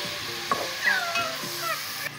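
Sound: meat and browned onions frying in a pot

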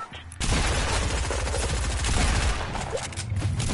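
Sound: gunshots in the video game Fortnite

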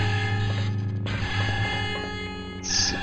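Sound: alarm sounding in video game Jedi Knight Mysteries of the Sith

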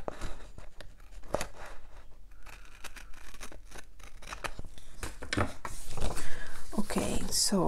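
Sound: scissors cutting planner pages

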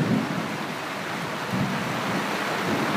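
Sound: rain falling on a temple courtyard

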